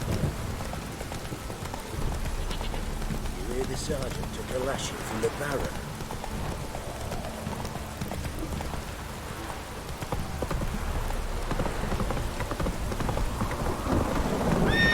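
Steady rain falls in a stormy scene from The Witcher 3: Wild Hunt, with a constant patter, horse hooves clopping and distant thunder, while a character speaks over it.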